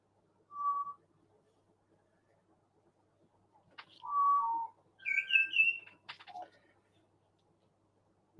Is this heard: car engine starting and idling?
no